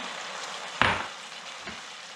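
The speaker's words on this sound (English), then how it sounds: "We're going to go ahead and add the white wine. We're going to deglaze the pan." White wine poured into a hot pan of cooked onions lets out one sharp burst of sizzle that fades quickly into a low steady frying hiss, close up, with no talking.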